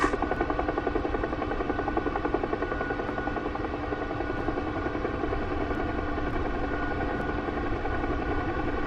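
A helicopter in the DCS flight simulator hums with a steady, loud rotor and turbine drone, a continuous pulsing whine that holds evenly throughout with no voices.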